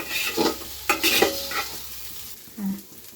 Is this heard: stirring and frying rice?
yes